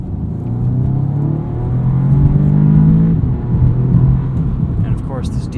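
A 2016 Audi S3 sedan with a DSG gearbox driven hard, engine note rising and falling with a brief shift, heard from inside the cabin.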